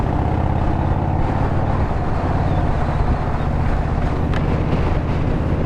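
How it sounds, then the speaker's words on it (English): Heavy wind buffeting a microphone while riding a motorcycle along a Texas highway, a loud continuous roar with a low engine drone underneath, steady throughout and free of talk. "that wind feels gorgeous. I bet it doesn't sound too great, but it feels amazing."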